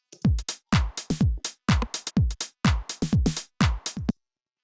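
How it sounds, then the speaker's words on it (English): A simple drum beat from a stock Ableton Live drum kit loops: punchy booming kicks and crisp snare and hat hits in a steady pattern, alone and close, stopping abruptly. "just a really basic drum beat that I've made with one of the stock drum"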